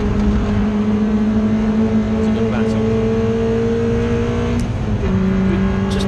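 Roadsports race cars including an older Seat Leon, BMW 330 and Honda S2000 at Snetterton circuit, a steady loud engine drone with shifting pitch as cars pass, under continuous commentary.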